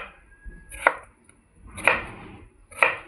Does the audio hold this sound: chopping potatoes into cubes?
yes